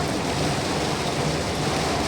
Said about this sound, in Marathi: लय पाऊस आहे